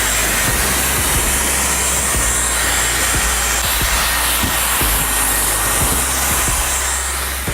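A Dyson Supersonic hair dryer blows with a steady, loud whooshing roar, a continuous airflow hum running the whole time with no voices.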